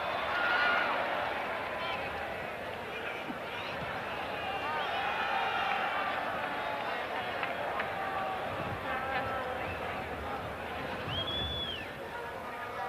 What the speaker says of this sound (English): The crowd getting behind Morocco again.